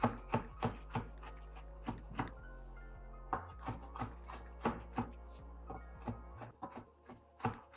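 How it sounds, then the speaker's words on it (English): A knife chops crab leg meat on a cutting board for crab rangoon, giving a steady series of close, crisp knocks at a quick, even rhythm with no talking. "So we got our meat pulled out of our legs. And we just gonna cut them down. Just gonna chop it all up."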